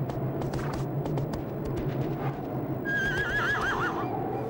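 A horse whinnies loudly with a wavering, trailing neigh in the video game Shadow of the Colossus, preceded by hoof clip-clops over a steady low ambient rumble.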